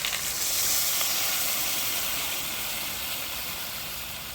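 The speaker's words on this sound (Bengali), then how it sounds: "কষানো হয়ে গেছে, এবার জল দিয়ে দেবো" Water hits a pan of fried ginger-cumin spice paste, giving a loud, steady steamy hiss and sizzle that slowly fades over a few seconds, with no talking.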